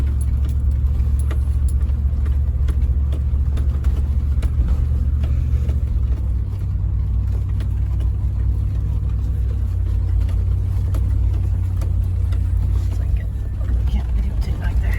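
A Land Rover climbs off-road in 4 low, second gear on an outing in Mendocino, California, its engine a loud, steady low rumble for the whole stretch, mixed with wind buffeting and light rattles.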